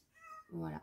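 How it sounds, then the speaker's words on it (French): A domestic cat gives one short, clear meow close by, right after a brief spoken word. "C'est mon chat."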